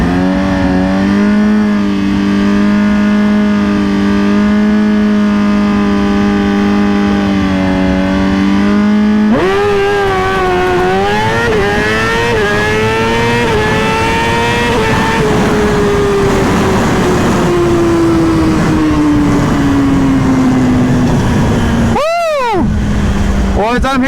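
Close, loud Kawasaki ZX-10R or Suzuki GSX-R 1000 sport motorcycle running a drag strip pass with an air shifter, holding high revs and then climbing through upshifts with sharp gear changes, engine note falling away near the end.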